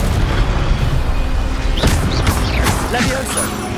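A Stupefy spell cast in the Hogwarts Legacy video game: loud whooshing magical blasts and booming impacts over a dense, continuous game soundscape.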